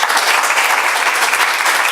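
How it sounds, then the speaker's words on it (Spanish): Loud, dense applause from a conference audience at the close of a plenary lecture, a continuous roar of many hands clapping with no talk over it. "Así que un fuerte aplauso para aquí."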